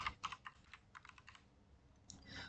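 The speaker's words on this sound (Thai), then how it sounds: "ผมก็จะลองพิมพ์คำว่าบางกุ้งนะครับ" Quick, light keystrokes tap on a computer keyboard in a quiet room. A short burst of typing comes first, a brief pause follows, then a few more presses, all soft and close with no voices.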